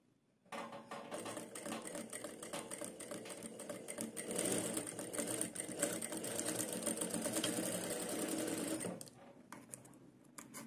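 A sewing machine stitches the seams of a princess cut blouse, running as a steady, close, fast mechanical whir for about eight seconds before it stops.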